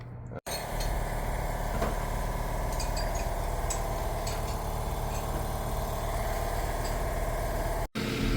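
A 2017-2022 Hyundai Accent with a six-speed automatic transmission runs steadily under gas during a transmission test, a continuous low engine drone with faint rattles, brief cutoffs near the start and end.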